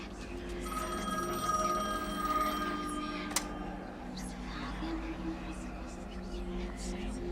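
Within a horror video game, a telephone keeps ringing with bright, bell-like repeating tones that fade out after a few seconds, leaving a dark droning ambience with a single sharp click.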